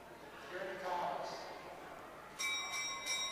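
A lap bell rings out at a long track speed skating championship, a bright metallic ringing starting partway through with repeated strokes, loud over arena noise and an announcer's voice.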